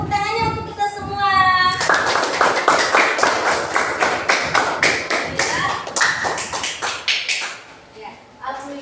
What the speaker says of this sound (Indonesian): beri tepuk tangannya untuk kita semua